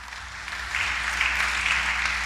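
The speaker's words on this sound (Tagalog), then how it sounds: "Palakpak." A church congregation applauds, starting faint and swelling into a steady, moderate wash of clapping over a low background hum.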